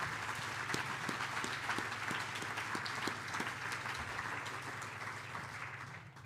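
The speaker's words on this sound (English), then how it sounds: "let's give all the schools a nice round of applause" Crowd applauding the schools at a 2025 awards ceremony, steady mid-level clapping with a low hum underneath and a few sharper individual claps standing out, fading slightly at the end.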